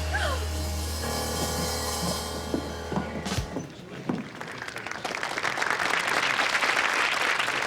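An audience applauds at a kids' show after a song about zoo animals on wheels, the clapping swelling after a musical sting and filling the back half of the clip as a steady crowd wash.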